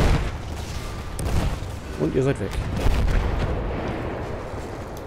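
Heavy cannon fire in the World War I shooter Battlefield 1, with booming shots scattered across a dense battlefield din while someone talks over it.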